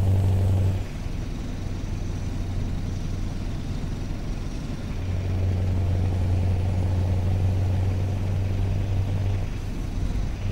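A truck in Euro Truck Simulator 2 cuts in ahead on the road, heard as a steady low engine drone and road rumble that holds throughout, with no talking.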